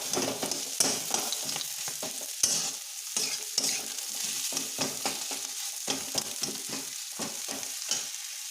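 Peas and potato stir-fried in a pan for vegetable chops, with a steady sizzle broken by frequent scraping spatula strokes at an irregular rhythm, close and moderately loud, with no talking.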